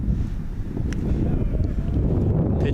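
Steady wind gusting across the microphone at an outdoor NCAA college baseball game, a broad low rumble with brief flurries, loud and continuous throughout.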